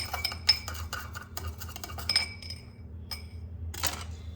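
A metal spoon clinks and scrapes against a bowl while a spice rub with cinnamon is mixed for keto crockpot baby back ribs, a few sharp taps and stirring strokes close up with no talk.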